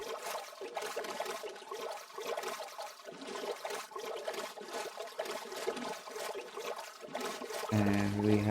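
Ocean water in the Minecraft video game washes and trickles steadily and softly throughout, a continuous watery hiss with a brief louder swell at the very end.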